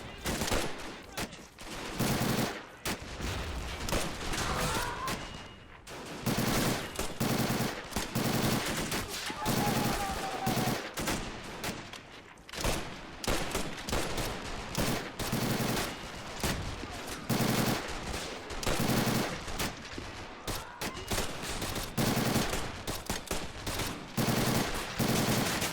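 Dense, nearly nonstop gunfire from a WW2 fort siege battle video game, with Americans and Soviet Marines fighting Japanese troops: rapid machine-gun bursts and rifle shots overlapping throughout, loud and close with brief lulls.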